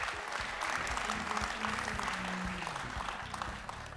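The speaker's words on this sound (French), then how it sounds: "On l'applaudit." An audience applauds steadily to welcome a speaker onto the stage at an evening business debate event, the clapping dense and sustained throughout with a faint voice underneath.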